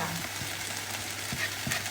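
Chilli and spring onion are stir-fried in a pan, with a steady sizzle and the scrape and clack of a spatula against the metal every half second or so, close up.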